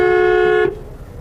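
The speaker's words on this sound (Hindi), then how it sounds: "अब टेम्पो वाले एकदम से मोड़ देते हैं, हॉर्न भी देना पड़ता है।" Single car horn honk in city traffic, loud and close, a bright steady tone of about two-thirds of a second that cuts off into low road rumble.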